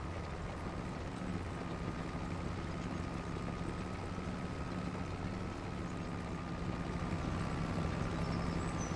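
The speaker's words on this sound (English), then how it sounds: "Ford 1156 is just rumbling." Ford 1156 tractor engine in Farming Simulator 25, a continuous dense low rumble with a steady droning tone, loud and unbroken throughout with no speech, while the tractor works a field in spring tillage.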